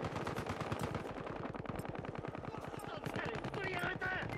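Rapid sniper and automatic gunfire in the video game Battlefield Hardline, a dense, continuous run of sharp shots with faint talk underneath.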